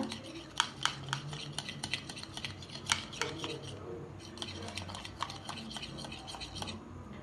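Honey fruit salad dressing beaten in a bowl, a steady quiet run of rapid clinking and scraping of a utensil against the bowl, fairly faint and continuous throughout.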